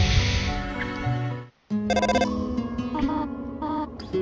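A phone rings in the video game Undertale, a steady electronic ringtone over game music, breaking off briefly and then resuming with a repeating chime-like tone.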